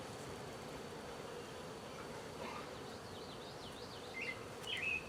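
Honey bees buzzing around an opened beehive during a hive split, a steady droning swarm hum with a few louder passes near the end.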